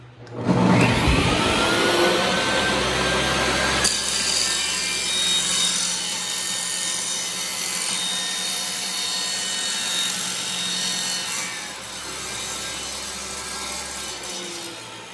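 A table saw runs and cuts a round pine dowel in a bench jig: a loud, sustained whining roar that rises sharply at the start, holds steady with a slight shift partway through, then eases a little near the end.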